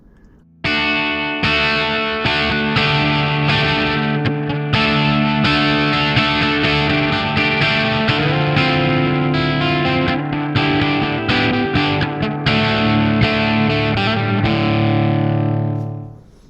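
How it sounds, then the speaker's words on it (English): A distorted electric guitar played through a Line 6 POD HD amp-modeling effects unit, sustained chords and riffs ringing loudly and continuously with no talking. "Please listen with me to the fake amp sounds from this device."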